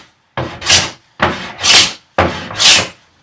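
Three hand-plane strokes across a wooden workbench apron, each a sliding shaving swish that swells and fades, spaced evenly with short pauses between, close and fairly loud.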